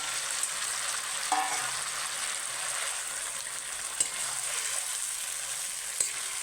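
Taro leaves frying in spiced oil, with a steady bright sizzle and a few sharp clicks from a utensil against the pan, no voices.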